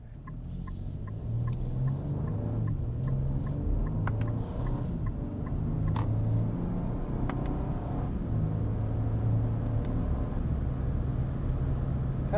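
A 2025 Nissan Armada Pro-4X SUV with a twin-turbo V6 and 9-speed automatic cruises on a morning commute, its engine and road noise a steady low rumble heard from inside the cabin, with small clicks over the top.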